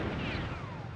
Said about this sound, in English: Nuke deployed.